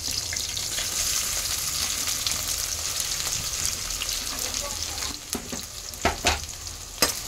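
Chopped onions with green chillies frying in a pan for mint egg rice, a steady close sizzle running throughout, with a few stirring clinks and scrapes near the end and no talk.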